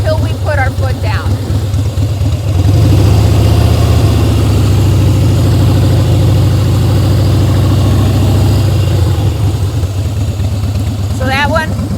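A motorcycle engine hums steadily at low revs during slow-speed riding drills, rising slightly and holding a loud, even drone for several seconds, close to the microphone.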